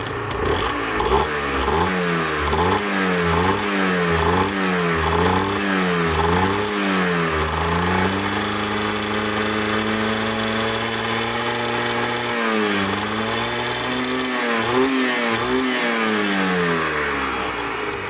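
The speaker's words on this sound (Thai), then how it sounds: "เพิ่งสตาร์ทนะไม่ได้วอร์มเครื่องเลย รอเครื่องมันร้อนสักครู่" A Yamaha TZM150 motorcycle engine, freshly started and still cold, runs loud and close, its pitch rising and falling in a repeated rhythmic revving before settling into a steadier idle and then wavering again.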